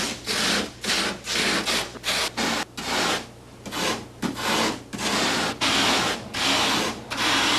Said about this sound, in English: Greg has model maker Mike Hosh carve the rough structures of the canyon cliffs out of 8-foot pieces of foam.